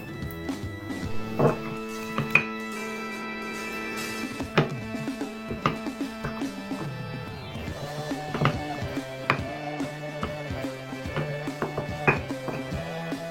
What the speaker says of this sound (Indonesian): akan ulek dulu si tempenya